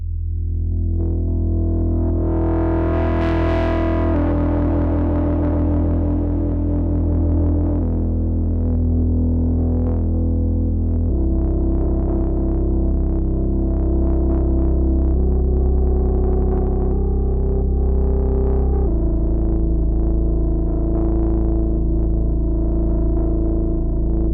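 A gritty, buzzing Moog Subsequent 37 analog synthesizer tone with shifting harmonics and a swelling filter sweep, stepping through sustained notes, loud and continuous with no talk.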